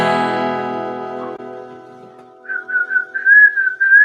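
A person whistles a tune in short, melodic phrases, close and clear, following a fading sustained tone at the start.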